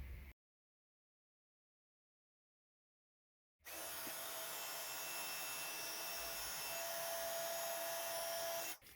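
A heat embossing tool blows hot air over a card, a steady whirring blower hum. It follows a few seconds of silence and stays loud and even until it cuts off at the end.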